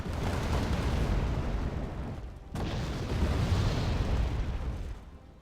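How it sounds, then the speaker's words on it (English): Heavy artillery barrages from the double-barreled AMOS mortar system in the strategy game Wargame Red Dragon, a dense continuous rumble of overlapping blasts with a brief lull midway before another sustained volley, loud and close. "And we've got the artillery fire and the crazy AMOS system."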